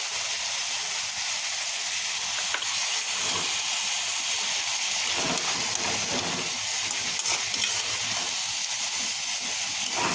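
A pressure cooker cooking vegetables lets off a steady, moderately loud hiss of steam that runs unbroken throughout.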